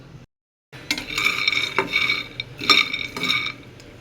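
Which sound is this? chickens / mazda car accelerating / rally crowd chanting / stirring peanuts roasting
stirring peanuts roasting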